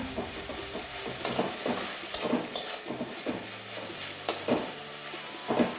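Jute leaves with onion and garlic stirred and fried in a pan, a steady soft sizzle broken by repeated scraping and clinking strokes of the spatula, close and moderately quiet.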